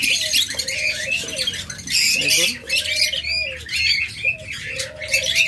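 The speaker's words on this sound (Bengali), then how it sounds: "যারা ডাবল রেড ফ্যাক্টর পাইনাপেল কোনুর খুঁজতেছেন" A double red factor pineapple conure calls with repeated loud, harsh squawks and shriller chirps in short bursts, close by, while someone talks briefly.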